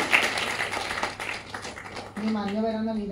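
An audience claps at a book launch in a burst of quick, scattered applause that fades after about two seconds, followed by someone speaking.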